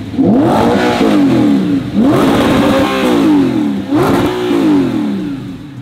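Straight-piped Lamborghini Aventador V12 revving loudly up close in three long, surging blips, each climbing and falling back with a raspy roar, no talk over it.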